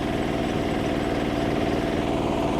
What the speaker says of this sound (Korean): 자동차 운전자 입장에서 10km, 14km 주행 경운기는 상당히 답답한 장애물이죠